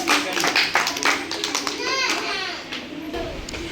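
Children clapping together in a classroom after a number game, a brief burst of applause over chatter and kids' voices that continues throughout.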